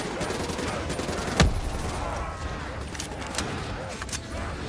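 Rapid gunfire in the Black Ops 3 zombies Nightmares mode on a desert map, a dense continuous rattle with one sharp louder blast partway through, loud and close throughout.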